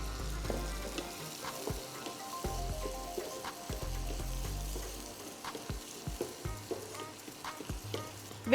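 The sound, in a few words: garlic and shallots sautéing in melted butter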